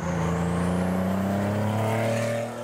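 A 3.3-litre Porsche sports car with a four-speed gearbox runs loud and close, its steady engine tone rising slightly over a couple of seconds.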